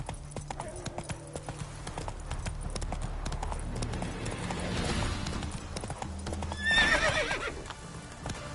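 Roach the horse gallops in The Witcher 3, a steady rapid clip-clop of hooves under ambient game sound, with a whinny partway through.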